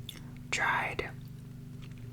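A thick, crunchy Crumbl cookie coated in sugar and cinnamon flakes is bitten and chewed close to the mic, giving one sharp crunchy bite and soft chewing under faint whispering.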